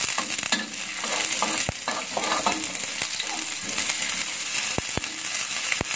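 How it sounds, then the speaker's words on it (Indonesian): Garlic and shrimp heads are stir-fried with softened onion in a hot pan, a loud, close, steady sizzle broken by sharp clacks and scrapes of the spatula, with no talking. "kita oseng-oseng sebentar sampai bau udangnya keluar"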